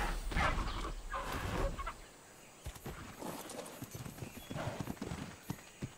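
Horse hooves clip-clop in the video game Ark: Survival Evolved, a soft rhythmic trotting that comes and goes over a faint background, with occasional bird-like clucks.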